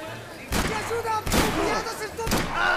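Several loud, sharp gunshots fire about a second apart in the action game Max Payne 3, each a broadband crack over game background noise and talk.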